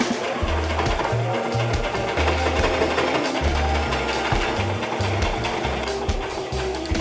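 A sewing machine stitching very small, thin fabric, a thrifted top being altered; a steady close whirring hum with short stop-and-start bursts running throughout, no talk.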